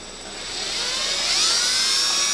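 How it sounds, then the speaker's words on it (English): A small drill bit bores pre-drilled screw holes into a door during a kitchen renovation, giving a high, rising whine that grows louder and steadier over a couple of seconds, close up with no talk. "I take a drill bit that's very, very small, and I want to just pre-drill my holes"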